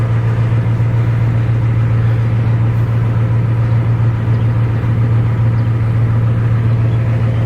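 Old Ford truck with a stuck brake, engine running in a steady, loud, low drone and unchanging hum throughout, close by with no voices.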